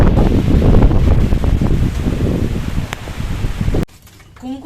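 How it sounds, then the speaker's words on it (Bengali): Rain begins falling outdoors beside a lit clay stove where mustard fish is being cooked, a steady dense patter that holds fairly loud and then cuts off abruptly near the end. "বৃষ্টি পড়তে শুরু হয়ে গেল।"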